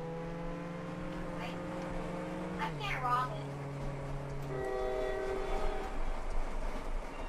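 A sustained multi-tone train horn in the Roblox game Jailbreak sounds steadily, shifting pitch twice as it continues over an ongoing rumble of the moving train.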